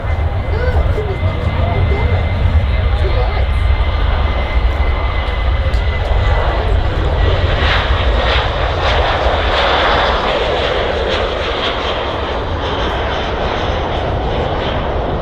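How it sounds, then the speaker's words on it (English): Ryanair jet airliner departing Manchester Airport, its engines roaring loud and steady throughout, a broad sustained rumble with rising hiss, heard alone without talk. "Hopefully you can hear the engines now."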